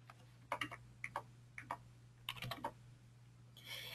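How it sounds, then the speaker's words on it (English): Someone types on a computer keyboard while entering order items, with quiet, irregular clusters of key clicks over a low steady hum and a brief burst of sound at the end. "Helps if I type it right."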